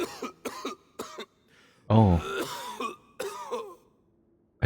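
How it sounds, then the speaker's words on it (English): A character in the video game Genshin Impact coughs in a run of short, dry bursts and a rough throat-clearing rasp, close and fairly quiet, with a brief exclamation in between. "Why is he coughing so much?"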